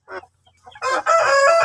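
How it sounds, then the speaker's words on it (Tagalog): A Shamo hen, mother to a brood of chicks, gives a short cluck then a louder drawn-out squawking call, close and clear. "Saka yung kubra natin, yung nanay po nitong mga sisiw na"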